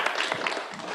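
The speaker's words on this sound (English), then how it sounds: "give big round of applause for Chris Zubicki" Brief burst of audience clapping at a board of directors special meeting, a short spatter of hands lasting about a second with no talk over it.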